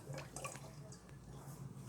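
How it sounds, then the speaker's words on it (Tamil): Water poured through a funnel into a bottle that is plugged with clay, a steady splashing, gurgling trickle heard close up with a low hum underneath. "தண்ணியை ஊற்ற போகிறேன்."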